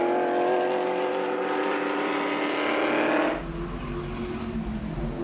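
A vintage NASCAR race car engine roars at speed at a vintage racing event, loud and sustained, then drops in pitch and tone near the end as it moves away.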